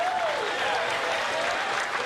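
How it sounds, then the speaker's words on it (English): Crowd at a fight event applauding both fighters after a split decision, a steady, close wash of clapping that fills the whole short moment. "Let's hear a big round of applause for both these fighters."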